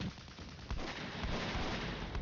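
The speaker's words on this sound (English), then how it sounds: "Alright, they're getting lucky with artillery." Artillery rounds land in a World War II strategy game, a Big Red 1 campaign mission, as a dense rumbling barrage of booming impacts that roll on continuously, with a sharper blast partway through.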